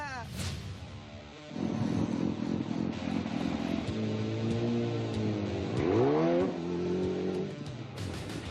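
A custom motorcycle built by a builder idles and revs with a throaty engine note rising and falling nearby, mixed with people talking.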